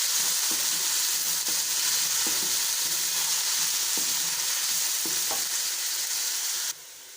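Chopped medium onion frying in oil with spices, a loud, steady close-up sizzle with occasional soft stirring taps, continuous throughout and without speech.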